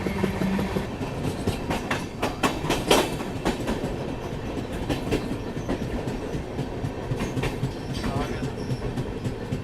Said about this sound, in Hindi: हमारी ट्रेन अब सेवाग्राम पहुँचने वाली है।